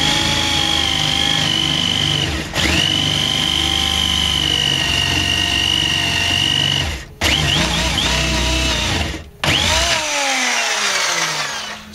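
Drill boring a hole into wood, a close, steady whirring whine that twice cuts out briefly and restarts, with no talk.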